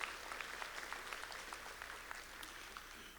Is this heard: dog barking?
no